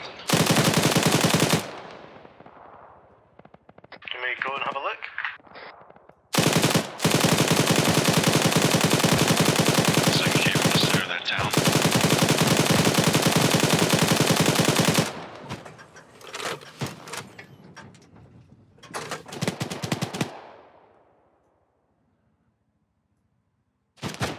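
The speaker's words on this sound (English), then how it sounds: "Outgoing fire from the north and southwest." Sustained automatic gunfire in the video game Arma 3 comes in long, very loud bursts with brief gaps, a few scattered shots and a fading tail, followed by near silence at the end.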